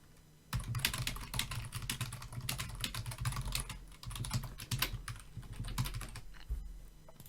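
Rapid, steady typing on a computer keyboard while writing C# script code for a Unity game, close and dense clicks running almost without pause over a low hum.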